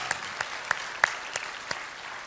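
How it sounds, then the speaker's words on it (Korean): A few scattered hand claps in a church Sunday service welcoming first-time visitors, sparse and moderately faint, about six separate claps spread over a couple of seconds with no talking. "박수로 환영합니다"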